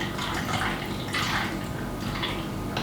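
Tap water for a cup of tea runs steadily into a container, with a continuous splashing rush and no talk.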